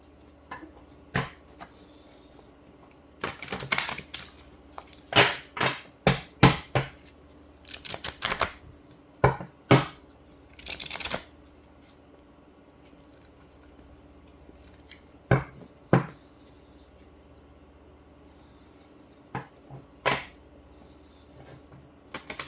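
Irregular bursts of crisp, rapid riffling clicks, each lasting a second or so, separated by quiet pauses, with soft taps in between.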